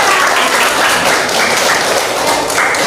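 Loud, close applause fills a classroom as students clap for a presenting group, a thick continuous patter that stays strong from start to finish.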